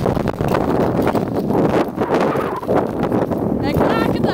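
Strong, biting wind at minus 15 degrees buffets the microphone outdoors near a skating spot, a rough, rumbling gusting roar that runs throughout under people talking.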